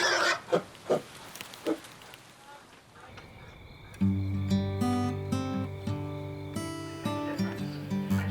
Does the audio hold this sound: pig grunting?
yes